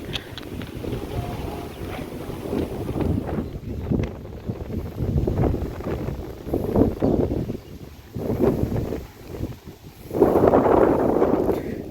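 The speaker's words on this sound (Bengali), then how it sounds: "বৃষ্টির পরিমাণটা এখন অনেক বেড়ে গেছে অনেক বাতাসের পরিমাণের সাথে" Heavy rain falls with strong gusting wind on a village road, giving a dense, continuous roar with buffeting surges that swell louder near the end.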